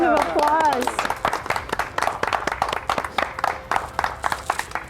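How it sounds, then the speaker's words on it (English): Audience applause for veteran graduates at a Veterans Day recognition ceremony: a brief voice at the start, then steady clapping from a crowd that continues loudly for several seconds. "Let's give them a huge round of applause."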